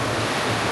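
Wave pool surf at Typhoon Lagoon in Disney World, Florida, a close, loud and continuous rush of churning water without a break.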